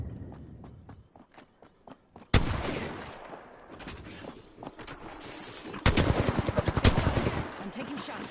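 Gunfire in the Apex Legends game, with a Mastiff shotgun in play: a loud blast, then scattered shots and a later burst of rapid rattling fire over footsteps, with players talking throughout.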